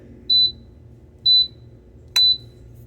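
Three short, loud, high-pitched electronic beeps from a food steamer starting up sound in a row, evenly spaced about a second apart, with a faint click near the last.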